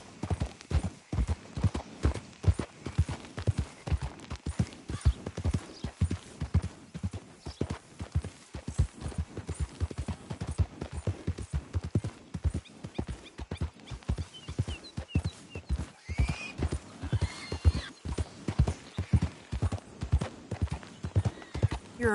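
Horse hooves clip-clopping at a steady galloping rhythm in Red Dead Redemption 2, loud and close throughout, with occasional snorts and a faint whinny, no talking.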